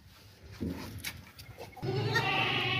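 A large, healthy Beetal breed goat bleats twice nearby, a short call and then a longer, louder sustained bleat.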